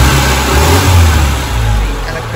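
A car engine with a viscous-coupling cooling fan revs loudly and steadily close by, a constant throaty roar that swells slightly as the throttle is held, with some speech under it.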